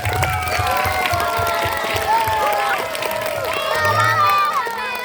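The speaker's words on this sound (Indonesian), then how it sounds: "Tepuk tangannya dulu semuanya" A crowd of schoolchildren and adults at an Isra Miraj religious gathering clap and cheer, steady mass clapping mixed with shouts and excited voices, while other talk carries on underneath.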